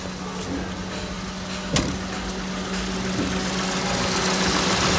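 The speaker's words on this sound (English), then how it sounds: "start the engine, turn on the AC so we can recharge the system" A Daihatsu Boon (Toyota Passo) sits at idle during an A/C recharge with the compressor switched on, giving a steady, close engine hum with a faint electrical whine, one sharp click partway through, and a gradually rising drone.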